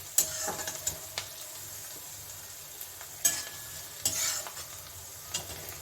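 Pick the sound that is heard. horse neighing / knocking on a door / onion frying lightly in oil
onion frying lightly in oil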